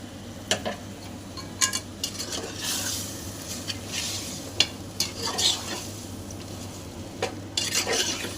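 Salted mutton stirred in a pot for a Telugu mutton curry, with repeated scraping and clinking of a spoon against metal over a low, steady sizzle, close and moderately quiet, without talk.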